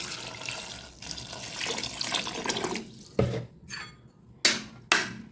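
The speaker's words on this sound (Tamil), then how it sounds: "இப்போ வந்து தேவையான தண்ணி ஊற்றிக்கலாம்" Water pours and splashes into a pot of mango sambar in a few bursts, then stops and starts again with short gushes and clinks of the vessel.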